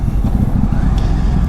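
A loud, low, steady engine rumble from a tractor close by on a country road, droning continuously without pause.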